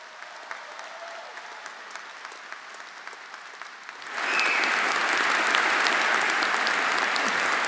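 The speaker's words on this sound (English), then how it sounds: "with a round of applause" A large commencement audience at a business school MBA graduation breaks into sustained applause after about four seconds of quiet room tone, the clapping loud, dense and steady to the end.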